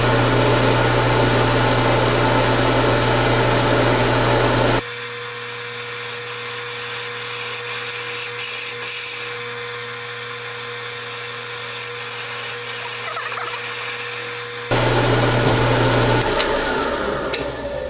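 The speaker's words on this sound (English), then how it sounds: "Let's do a quick cross drill on here, approximate, just to take the pin." A steady machine drone of a lathe or drill press cross drilling a hole through a lead hammer head for a 3/16 roll pin, holding at an even level for about ten seconds between louder, busier machine noise before and after.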